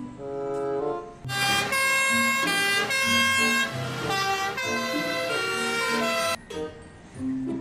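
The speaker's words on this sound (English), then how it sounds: "So big, powerful fire rescue truck." A big, powerful fire rescue truck blares its siren in loud, sustained wailing tones that hold for several seconds before briefly dropping away.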